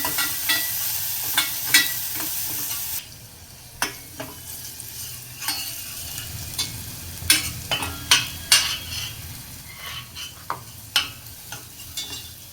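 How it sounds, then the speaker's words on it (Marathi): Potato vada mixture for batata vada stirred in a pan, with a steady sizzle under repeated scraping and clinking of a spoon against the pan and a louder hiss in the opening seconds. "चांगलं मिक्स करून घ्यायचं आहे"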